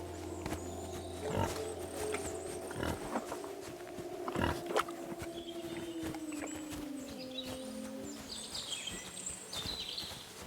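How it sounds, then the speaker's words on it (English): A stray pig grunts in the medieval game Kingdom Come: Deliverance II, with rough, low snorts over a busy outdoor soundscape and sustained tonal game sounds. "I found a stray pig."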